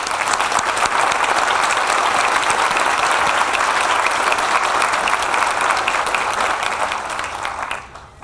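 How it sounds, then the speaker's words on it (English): Commencement crowd applauding graduates' families and friends, a broad sustained roar of clapping that fills the hall for several seconds and then fades out. "Please join me in applauding them."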